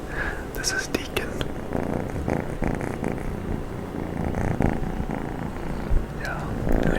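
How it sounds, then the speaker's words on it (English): A pet cat purrs close by in a quiet ASMR setting, soft whispery breathy rumbling with a few faint high chirps and clicks, steady and low throughout. "my cat wanted to say hi"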